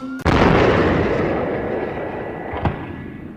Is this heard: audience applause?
no